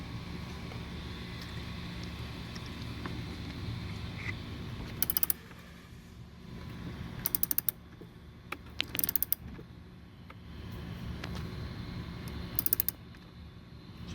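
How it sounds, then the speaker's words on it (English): A ratchet wrench tightens the positive battery terminal on a Mercedes W204 C-Class C250. Four short bursts of rapid, close clicking break a quiet low hum. "next we are going to take our positive supply and hook it right there and bolt it back down"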